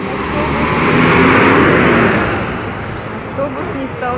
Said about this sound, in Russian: О, сейчас автобус.